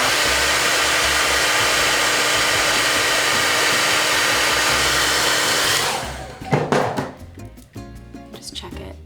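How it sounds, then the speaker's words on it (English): A hair dryer blows with a loud, steady whoosh for about six seconds while warming a lash curler, then switches off, followed by a few light clicks and handling sounds. "I use my hairdryer to warm up my lash curler."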